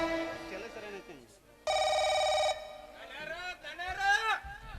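A telephone bell rings in a steady electronic burst lasting just under a second, set in a Kannada folk stage drama, with people talking loudly before and after the ring.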